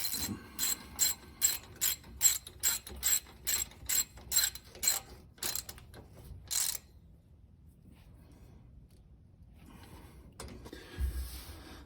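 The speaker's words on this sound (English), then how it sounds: "So now I'll torque these right down to where it squeezes the silicone out." A ratchet torques bolts down on a demolition derby car in a rapid series of loud, evenly spaced clicking pulls, then falls quiet with a brief clunk at the end.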